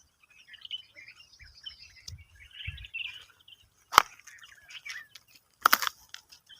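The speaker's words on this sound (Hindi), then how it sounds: "बहुत ही प्यारी मीठी आवाज़ है इन परिंदों की" Jungle birds chirp in scattered bursts, faint and intermittent, broken by a couple of sharp close clicks or snaps and some soft low rustling.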